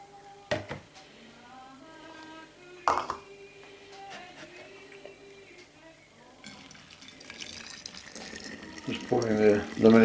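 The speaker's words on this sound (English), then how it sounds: "Just pouring the lemonade in." Lemonade is poured through a plastic funnel. A quiet voice talks at first, then a bright splashing gurgle of liquid rises and grows louder toward the end.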